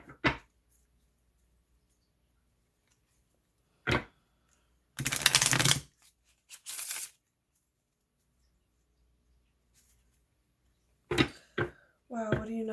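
Tarot cards being shuffled in a few short bursts, with quick riffling rustles separated by silence and a voice briefly speaking near the end.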